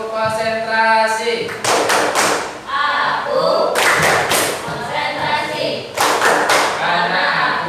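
Children led by a teacher chant in unison and clap in sharp synchronized bursts during the tepuk konsentrasi clapping game, the clap clusters recurring between loud group vocal phrases.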